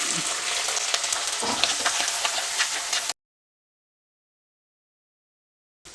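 Crushed garlic, onion and mustard seeds fry in oil in an earthenware pan, giving a dense, steady sizzle and crackle up close for about three seconds before cutting to sudden silence.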